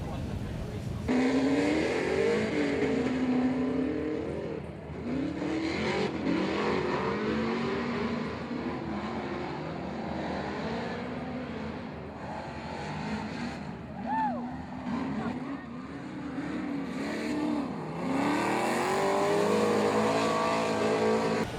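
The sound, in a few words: 700 horsepower V8 Formula Drift race car revving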